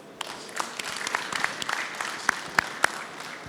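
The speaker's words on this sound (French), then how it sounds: "Je pense que vous pouvez l'applaudir beaucoup" An audience at a conference opening ceremony applauds a minister with scattered, uneven claps, some sharp and close, spread across the whole moment rather than a dense ovation.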